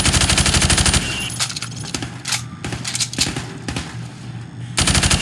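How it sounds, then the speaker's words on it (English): Rapid automatic gunfire in Call of Duty 4: Modern Warfare Remastered punches through plywood at targets, loud bursts at the start and end with scattered single shots and clinking casings between. "I want you to shoot the targets through the wood"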